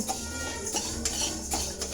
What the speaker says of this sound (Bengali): দেখো প্রথমে ডালটা ভেজে নিচ্ছি ভালো করে, একটু লালচে লালচে ডালটা হয়ে গেলে